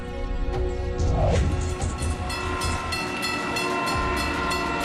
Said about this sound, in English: Emergency fuel gets passenger trains rolling.